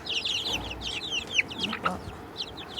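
Several black and white naked neck chickens cluck and chatter busily up close, bursts of quick calls with brief sharper squawks in the middle and a quieter stretch before more clucking at the end.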